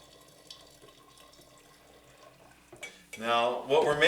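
Hot water poured into a vessel while making cyser, an apple and light honey mead, with faint kitchen clatter before a louder splashing pour builds near the end.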